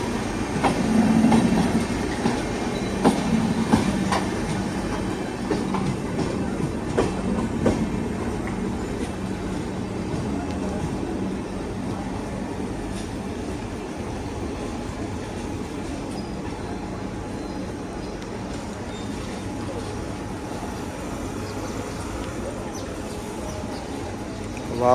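An IRCTC Tejas Express rolls past close by with a loud, continuous clickety-clack of wheels on rails that slowly eases off, and a little faint talk can be heard.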